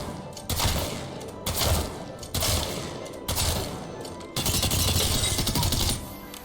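The Mastiff shotgun in a video game blasts at training dummies, with about five heavy, evenly spaced booming shots, each with a short decaying tail, then a longer sustained roar near the end.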